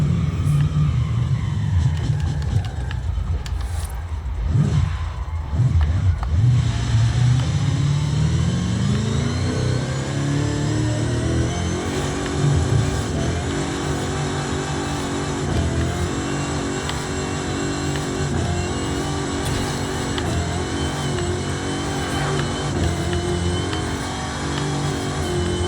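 Up close, the 1500-horsepower V8 of a 1964 Chevy Impala Super Sport 409 all-wheel-drive drift car revs hard and rumbles, its pitch rising and dipping early before settling into a loud, sustained high-rev drone.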